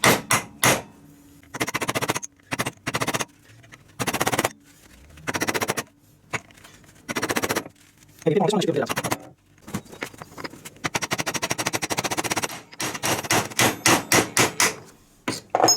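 Steel bolt hammered against locked transmission tail-piece parts held in a vise in a backyard: loud, close metallic hammer blows in quick clustered bursts, some rapid runs of strikes with short pauses between, no talk.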